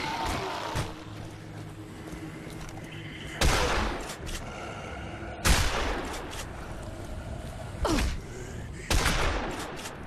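Gunfire in the zombie game Dead Island Riptide, several sharp bursts of shots spaced a second or two apart over a low game ambience, with faint background noise between volleys.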